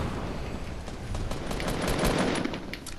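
Gunfire in the Fortnite Battle Royale video game, including sniper fire, comes as a dense, continuous burst of shots and crackling impacts with no speech heard.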